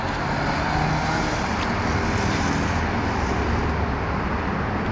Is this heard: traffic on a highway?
yes